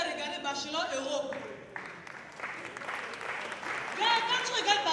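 A comedy-show audience at a hall in Gombe claps in answer to a question from the stage, with voices calling out over and between the applause.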